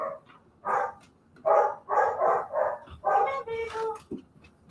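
A farm dog barks in a run of loud, close woofs and yips, some overlapping with casual talk from people nearby.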